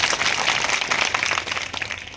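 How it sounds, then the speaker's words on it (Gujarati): A crowd at a community gathering gives brief, lively applause for Surendranagar Lok Sabha MP Chandubhai Shihora. The dense clapping runs throughout and fades slightly at the end. "એકવાર જોરદાર તાળીઓ ચંદુભાઈ માટે પાડીએ"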